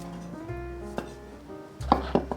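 Snow-white mushrooms minced with a knife on a board, a few clear close chops near the end after a quiet stretch, no voice.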